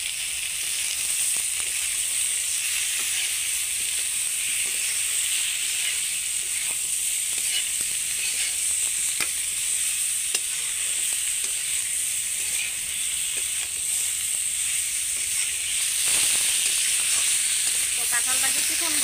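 Jackfruit pieces fry with turmeric powder in oil, a loud, steady sizzle that holds evenly throughout, with occasional light stirring ticks.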